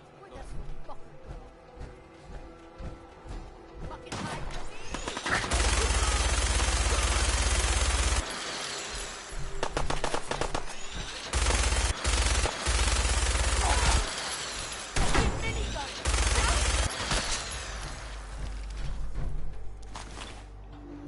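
Bursts of enemy gunfire in Fallout 4, with rapid automatic volleys and loud blasts arriving in several clusters separated by brief pauses, a voice speaking in the quieter gaps.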